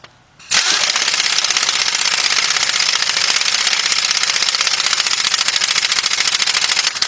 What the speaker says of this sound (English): Grab my 1/2 inch drive air gun and tighten that bolt up.